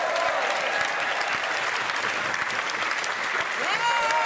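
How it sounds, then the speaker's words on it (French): Studio audience clapping steadily for Jean-Pierre Castaldi at an evening television show, a dense, continuous wall of applause with faint voices mixed in. "Applaudissements pour lui, là, vous allez voir."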